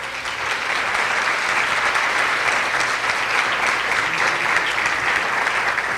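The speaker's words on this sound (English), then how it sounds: "give them a big hug and a round of applause" A conference audience gives a dense, sustained round of applause for two staff members being recognized at a welcome session, a continuous wash of many hands clapping at once, steady and full throughout with no talking on top.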